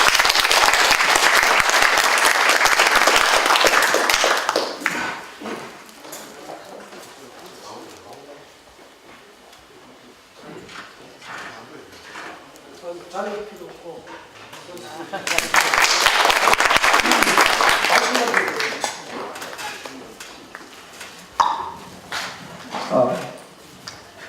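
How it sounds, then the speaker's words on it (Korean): A conference audience applauds to welcome a speaker to the stage, a loud sustained wave of clapping that fades to scattered claps, then swells again, with talk heard in the quieter stretch between. "큰 박수로 환영해 주십시오"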